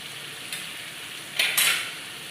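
Fried crabs tipped into a pan of half-cooked bottle gourd, a quiet steady sizzle with two short clattering bursts of metal and frying hiss near the middle.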